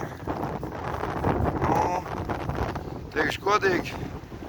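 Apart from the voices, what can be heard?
strong sea wind by a lake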